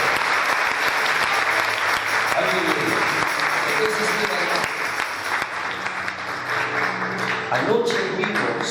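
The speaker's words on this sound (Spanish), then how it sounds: "Si puedes darle ese aplauso" A church congregation applauds during a worship service, with steady, dense clapping that fills the whole stretch, loud and close, and some voices mixed in beneath it.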